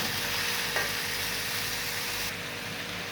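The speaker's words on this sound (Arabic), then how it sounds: "حطينا البصل والبطاطس هنشوحهم شويه يا حبايبي" Onions and potatoes sautéing in a pan for a potato koshari dish give a steady, close hiss of sizzling that runs unbroken, dipping slightly in level near the end, with no talking.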